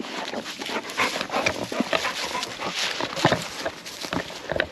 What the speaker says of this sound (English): I have no idea whose dogs these are.